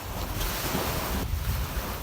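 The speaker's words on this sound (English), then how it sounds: "sit on the beach and listen to the waves" Ocean waves washing onto a beach, a loud continuous roar of surf with wind buffeting the microphone and no talk.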